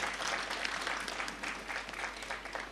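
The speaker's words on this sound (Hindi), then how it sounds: "तालियां बजाकर हम स्वागत करें।" An audience claps to welcome a guest at a devotional program about Lord Ram, a steady, even patter of applause that stays fairly soft and distant for a few seconds with no talking over it.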